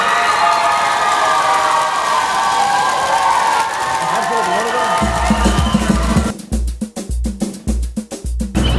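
Audience applause and cheering at a workers' singing contest on safety, greeting a contestant from the Nochebuena mine, a dense crowd roar that gives way to scattered, uneven clapping.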